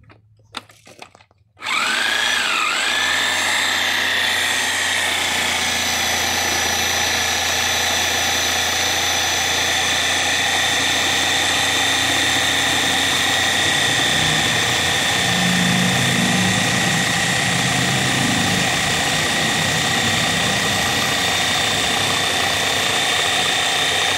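A Sawzall fitted with a metal-cutting blade saws steadily through a foam-filled telehandler tire, a loud continuous buzzing drone that starts after a brief quiet moment and runs unbroken to the end with no talk.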